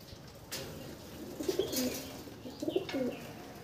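Pigeons in a large loft give low, throaty coos in two short rolling phrases, close and clear over a quiet room hum, with a faint rustle near the start.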